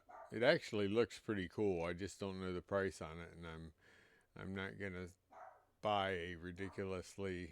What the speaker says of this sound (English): So he doesn't even know what he's barking about.